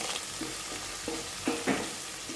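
Onions and ginger garlic paste fry in a pan, a soft steady sizzle with a few quiet stirring scrapes, faint and close, no talking.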